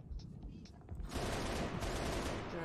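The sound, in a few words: turret gunfire in Halo Reach video game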